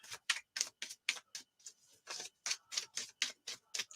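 Tarot cards are shuffled in a rapid, steady run of crisp riffling clicks and soft flutters, close and fairly quiet, with no voices.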